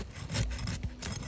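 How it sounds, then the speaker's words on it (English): Roof snake tool scraping up under a fiberglass roof shingle, a short, close, gritty rubbing scrape lasting about a second, fairly quiet and heard alone. "So as we scrape up the shingle"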